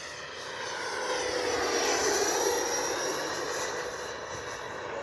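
A Freewing MiG-29 Fulcrum twin 80mm electric ducted-fan RC jet makes a low pass with its gear coming down, a steady whooshing roar that swells and then slowly fades.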